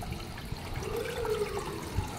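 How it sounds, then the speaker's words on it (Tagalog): Water poured into the tank of a top-load water dispenser, a short splashing and gurgling pour with a rising tone as the tank fills, close and moderately quiet. "ang tangki niya, ayan, lagyan natin ng tubig"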